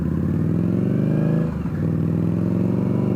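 A 2017 Victory Octane motorcycle with slip-on exhausts runs close by with a deep, steady, throbbing engine note and a brief dip and swell in the middle.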